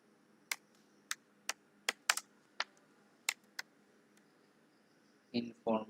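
Keys tapped on a computer keyboard while entering a title in an Excel spreadsheet, about a dozen crisp, close clicks in an uneven rhythm, followed by a few words of talk at the end.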